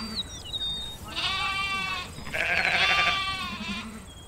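Sheep bleat in a pastoral sound effect, two long wavering bleats in sequence, loud and close, with faint birdsong chirps before and between them.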